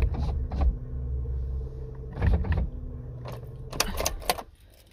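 Keys jangling inside a car as a bag is packed, in three short metallic bursts spread across a few seconds, over a low hum and faint mechanical creaks.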